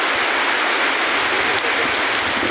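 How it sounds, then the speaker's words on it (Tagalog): Steady rushing water of a swollen river during a typhoon roars continuously at high volume, a broad unbroken wash of sound with no voices. "Tapos rinig na rinig yung agos ng tubig sa ilog."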